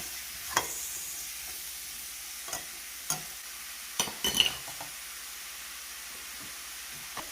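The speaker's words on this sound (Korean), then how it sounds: "살짝 볶다가 이제 육수를 넣어줄 거예요" Turmeric curry base being stir-fried in a pan, a low continuous sizzle broken by several sharp spatula scrapes and clicks, close and without talk.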